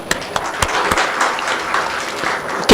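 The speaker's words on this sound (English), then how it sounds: "Give yourself an applause." Audience applause at a conference inaugural ceremony, a steady dense wash of many hands clapping from a moderately distant crowd, holding at an even level throughout and rising sharply right at the end.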